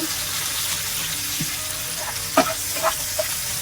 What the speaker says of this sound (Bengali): আমি একই তেলে কিছু পেঁয়াজ দিব পেঁয়াজগুলো আমি লাল লাল করে ভেজে নেবো